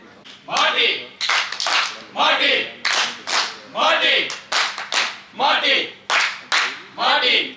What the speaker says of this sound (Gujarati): ખૂબ તાળીઓના ગડગડાટથી આપણે વધાવી લઈએ